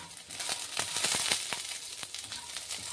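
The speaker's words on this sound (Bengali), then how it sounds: "রসুনগুলি ভাজা হয়ে গেলে এবার তাতে আমি কাঁচা কাঁচা লঙ্কা দিয়ে দিচ্ছি।" Green chillies dropped into garlic already frying in hot oil in a wok, a loud continuous sizzle and crackle with scattered stirring clicks, close and unbroken.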